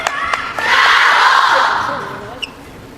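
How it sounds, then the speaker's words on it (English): Crowd at a table tennis mixed doubles match at China Smash, chanting the nickname of Sun Yingsha, a loud swelling wave of voices rising and fading over a few seconds, with a brief sharp knock near the end. "The SHATOU chants in the crowd."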